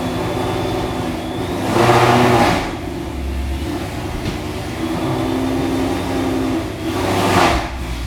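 A Ford Mustang engine revs as the car creeps up onto ramps, a steady idle rising into two throttle surges with a short settle between them, close and loud, with no talk.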